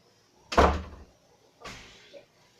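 A door slamming shut with a loud close thud, followed about a second later by a softer second knock or bump against the frame, near and indoors.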